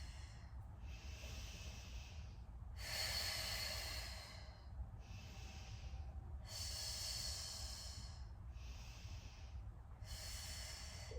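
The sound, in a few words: deep breathing during core exercise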